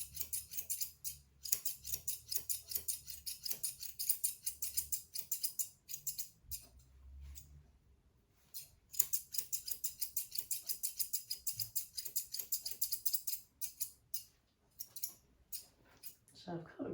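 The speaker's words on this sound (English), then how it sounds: "So I've cut round there and I've just trimmed that off." Scissors snip in quick, crisp bursts of close clicks while trimming a standard poodle's top knot hair, with short pauses between runs of cuts.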